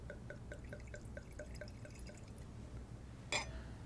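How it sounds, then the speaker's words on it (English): Wine poured from a bottle into a glass, heard as a quiet, regular series of glugging drips followed by a brighter clink of glass near the end, with no voices. "we're ready to pour. So first I pour to myself."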